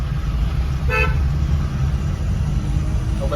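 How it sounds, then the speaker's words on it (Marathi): Busy road traffic rumbling nearby with a short car horn toot, and a faint second honk near the end. "भरपूर ट्रॅफिक लागलेले आहे"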